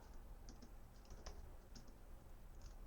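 Someone types a file name on a computer keyboard while working in VS Code: a sparse run of soft, quiet key clicks, closely miked and alone, with short pauses between taps.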